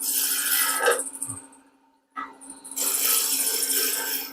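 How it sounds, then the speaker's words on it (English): Roughing gouge cutting waste wood on a spinning lathe blank: a loud, continuous rasping scrape that breaks off briefly midway, then resumes steadily. "We can remove this waste material with our roughing gouge as an example."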